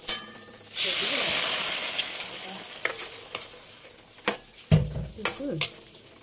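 Garlic sautéing in a pan gives a sudden loud hiss as it hits the heat, then fades into a softer sizzle broken by scraping stirs and clinks of a utensil on the pan, close by.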